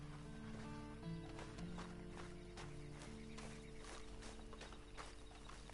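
Horse hooves clip-clop at a walking pace in Red Dead Redemption Online, quiet and steady beneath a faint musical bed.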